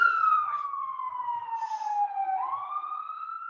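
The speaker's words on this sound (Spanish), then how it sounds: "Esas ambulancias pasan por acá" An ambulance siren passes outside, a single loud wailing tone that glides slowly down and then sweeps back up, with no other sounds around it.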